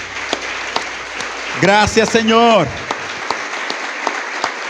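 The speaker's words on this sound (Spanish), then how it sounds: "le invito nuevamente a juntar sus palmas y que le demos un aplauso" A church congregation claps continuously throughout, a steady crackle of many hands, while a voice speaks briefly over the applause.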